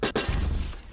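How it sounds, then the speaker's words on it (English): Glass smashes in a video game, a quick brittle crack followed by a heavier shattering crash, loud and close, with no speech. "That glass breaking sound is really good."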